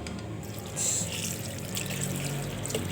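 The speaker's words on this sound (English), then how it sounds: "we're going to wash the coconut once we're done cleaning it" Tap water runs steadily as a coconut is washed for chicken binakol, a close continuous pouring and splashing with no talk.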